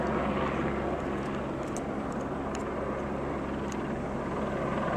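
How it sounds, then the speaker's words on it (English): Several news helicopters hover overhead, their rotor and engine noise forming a loud, steady drone that fills the whole stretch with no speech. "You got the swarm of frickin' news choppers. There's one still over there."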